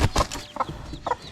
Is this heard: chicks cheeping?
yes